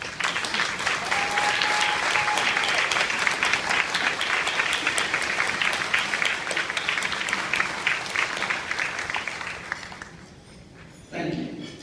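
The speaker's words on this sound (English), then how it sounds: "I ask that they stand for a well-deserved round of applause." A large awards-ceremony audience at the Michigan Works Association event claps loudly and continuously for the Oakland County professionals, then the applause fades out, leaving a brief quiet moment and a soft thud at the end.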